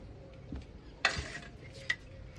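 Metal dishes being washed in a home kitchen: a couple of distinct clinks and clatters over quiet, faint handling noise.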